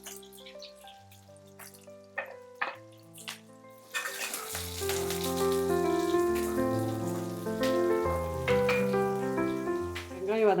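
Shallots sizzle in hot oil as curry leaves and dried chillies are added. There are a few soft clatters, then at once a loud, steady crackling fry that carries on close and continuous to the end.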